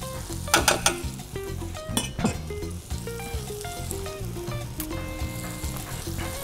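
Rice toasting in a paella pan with sausage and seafood, a close sizzle of frying grains with a spoon stirring and scraping against the pan, while music plays over it.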